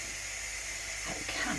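Steam hissing steadily as the lid comes off a pressure cooker of braised red cabbage, a soft, even hiss with a few faint clunks near the end.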